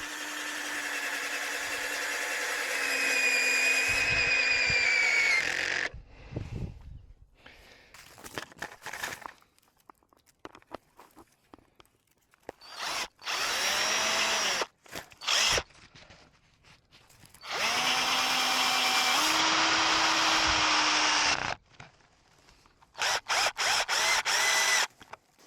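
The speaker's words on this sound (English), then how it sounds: "found that they're also great for drilling like this into bamboo." A drill driving self-tapping screws into bamboo for a tomato teepee whines in several bursts of rising speed, close and fairly loud, separated by rustling, clicking and quiet gaps, with no talk.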